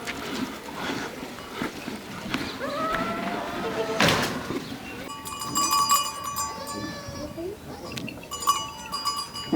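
Nagfani goats from a lot of about forty to fifty head bleat in a pen, short calls rising over a busy background with bell-like clinks and faint voices nearby.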